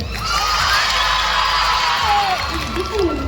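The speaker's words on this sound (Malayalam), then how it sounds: "ലേഡീസ് ഒച്ചയെടുത്ത് കൈയടിച്ചു, ഒച്ചയെടുത്ത്" Women in a concert audience clap and cheer loudly for a stage singer, a short burst of crowd shouting and whooping that stays full and energetic for a few seconds.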